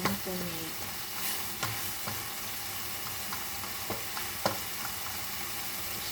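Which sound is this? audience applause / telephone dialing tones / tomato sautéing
tomato sautéing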